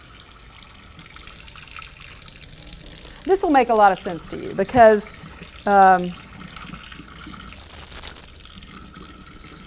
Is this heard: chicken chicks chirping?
no